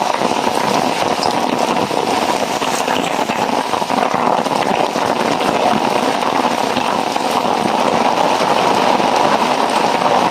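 Heavy rain pours over a farm field, a loud, dense and continuous roar with no letup throughout.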